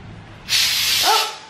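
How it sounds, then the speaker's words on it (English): A sudden loud hiss of an aerosol can spraying artificial snow onto a Christmas tree, lasting about a second, with a brief squeaky sound near the end. "You want to try to spray some snow on it?"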